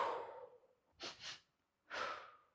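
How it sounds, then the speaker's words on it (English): A calming breath pattern of two quick, sharp nasal inhales followed by a longer audible exhale, close and fairly quiet, after a softer breath at the start. "it's taking 2 quick inhales, 1 exhale"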